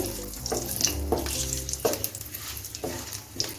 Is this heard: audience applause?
no